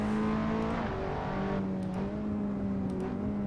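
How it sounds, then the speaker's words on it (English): A Skip Barber Formula 2000 racer in Assetto Corsa drones at high revs, its engine tone stepping and sliding between pitches through throttle-blipped downshifts, loud and steady throughout with no talk. "Make sure to blip those downshifts."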